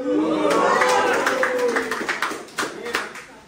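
A crowd at a Filipino rap battle between Castillo and Psyke claps in a burst of sharp, scattered slaps, mixed with loud voices and crowd noise that fade toward the end.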